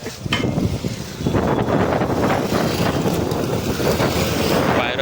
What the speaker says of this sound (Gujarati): વાયરો જબરજસ્ત આજે.